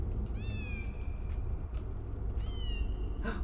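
A cat in the Harry Potter and the Sorcerer's Stone video game meows twice, each a drawn-out wavering cry separated by a pause, over a steady low game background.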